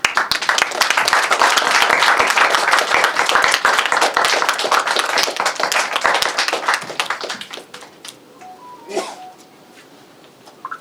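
An audience at a film team's press event applauds in a loud, dense burst of clapping that thins out and fades over several seconds, ending in near quiet with a few stray sounds.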